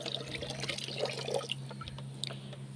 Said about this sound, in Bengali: আর এই যে এখন আমি হাড্ডিগুলো আবার পরিষ্কার করে ধুয়ে নিব